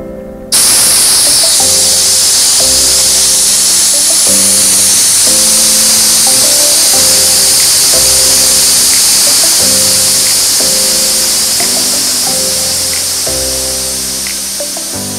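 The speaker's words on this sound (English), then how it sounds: "Do you have any idea how long it takes to drain two 45 minute tanks, two 60 minute tanks, and a 30 minute tank that were full?" Full compressed air tanks are being drained, making a loud, steady hiss that runs for the whole stretch while a rhythmic electronic tune plays underneath.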